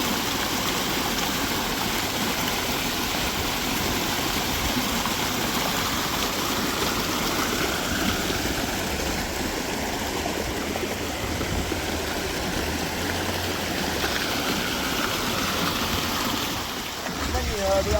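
Park water fountains splash and rush in a steady, close wash of water noise that fills the whole stretch, with a voice talking faintly beneath it at times.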